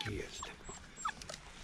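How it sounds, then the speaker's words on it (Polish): Small shaggy puppies, including a little dachshund, give short high whimpers and yips, close by and fairly quiet, over a scattering of background noise. "Piękne pieski są, zadbane, nakarmione są."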